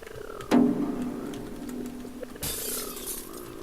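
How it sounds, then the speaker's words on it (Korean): A mirror shatters in a horror video game, a sharp glassy crash with a ringing tail, followed by a second bright burst of breaking glass over eerie ambience. "거울이 깨져있다"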